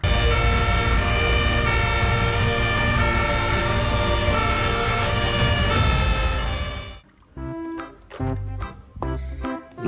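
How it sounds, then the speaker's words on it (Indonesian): A toy fire truck blares a loud electronic siren with layered wailing tones for about seven seconds, then stops abruptly and gives way to short clattering and toy noises nearby. "Wow, ternyata mobil pemadam kebakaran."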